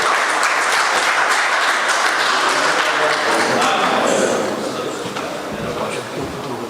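Loud, dense applause from a mushaira audience in Sharjah welcoming poet Hafeez Amir to the stage, sustained throughout and easing slightly toward the end, with a voice faintly audible underneath.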